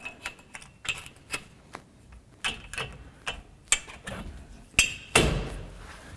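Gentle taps seat the spreader bar of a Hills Everyday Single folding clothesline into its arm: about a dozen sharp, close knocks at uneven intervals, with two louder strikes near the end.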